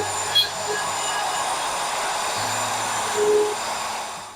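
A router with a flat bit is run freehand across a wooden cutting board, giving a steady, loud, rushing whine with slight shifts in pitch, close up and without talk.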